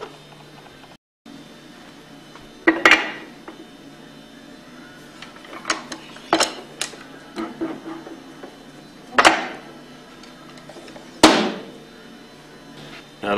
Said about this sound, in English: And now we're ready to press it apart.